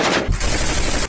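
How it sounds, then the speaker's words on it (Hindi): Machine gun fired at sea during a Ukrainian military drill, a short, loud, rapid burst of shots close by with no voices. "बाद में मशीन गन से भी समंदर में दुश्मन को ढेर करने का अभ्यास किया गया।"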